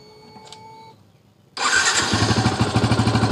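A Yamaha Vixion motorcycle with an old, charged battery is started on the electric starter; after a quiet idle hum, the engine abruptly catches and runs at a loud, close, pulsing idle.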